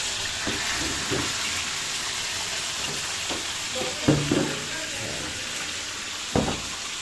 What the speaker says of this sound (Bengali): আমরা এখন এটাকে তেলে চড়চড়া করে ভাজি করব।